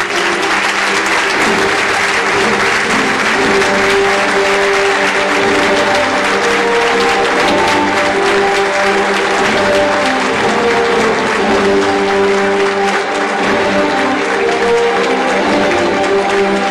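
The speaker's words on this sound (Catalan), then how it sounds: "Rebem amb un fort aplaudiment" A packed audience claps loudly and continuously at a Fallas festival gala in Sueca, Valencia, welcoming an honoree onto the stage; the sustained, even applause runs for over fifteen seconds without a break.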